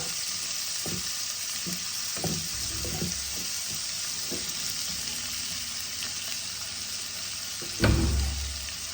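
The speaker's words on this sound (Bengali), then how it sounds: "পেঁয়াজগুলোকে আমি লাল লাল করে ভেজে নেব।" Onions fry in a pan for a Bengali local-fish curry: a continuous sizzle broken by scattered spoon scrapes and clinks, with one louder clank near the end.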